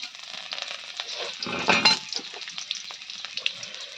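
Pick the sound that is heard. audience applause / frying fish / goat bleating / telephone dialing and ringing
frying fish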